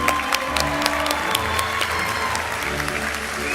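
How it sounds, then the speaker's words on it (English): An auditorium audience at a high school graduation ceremony in Jeddah applauding graduates, dense sustained clapping from many hands at a steady level throughout. "Please give a round of applause for the second row of graduates."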